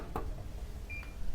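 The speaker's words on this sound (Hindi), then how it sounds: "एसी चालू हो गई" Air conditioner switched on by remote, giving a short faint electronic beep near the end after a soft click, over a quiet room background.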